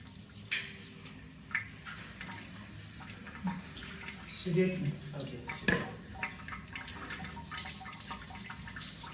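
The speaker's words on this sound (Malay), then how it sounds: "Ulangi menyiramkan dari kepala hingga ke kaki." Water poured over a body from head to feet during a simulated washing of the deceased, heard as uneven splashing and trickling bursts close by, with a voice speaking in the background.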